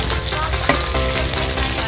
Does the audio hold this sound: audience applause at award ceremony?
no